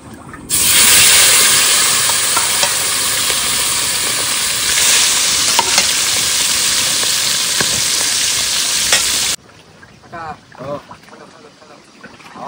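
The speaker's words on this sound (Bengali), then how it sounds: "তেলও গরম হয়ে গেছে, এবার মাছগুলো ভেজে নেবো।" Loud, steady sizzling of salted, turmeric-coated fish frying in hot oil, a dense crackling hiss that runs for several seconds before cutting off, followed by quieter talk.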